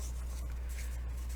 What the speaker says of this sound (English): So I'm just going to lightly score